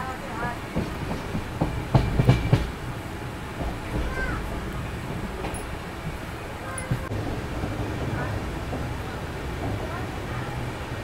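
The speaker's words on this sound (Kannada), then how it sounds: "ನಮ್ಮ ಟ್ರೈನ್ ಸದ್ಯಕ್ಕೆ ತಲುಪಿದೆ ಹಿಂದೂಪುರ ರೈಲ್ವೆ ಸ್ಟೇಷನ್ಗೆ" A train pulls in to Hindupur railway station, its carriages rumbling and clattering steadily on the tracks with a few louder knocks early on, heard from inside the coach beneath scattered voices.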